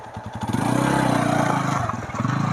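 A TVS Apache 180 motorcycle climbs a slope, its engine rumbling and rising in a close, loud, continuous drone with a rattling chain-sprocket noise fault, no speech.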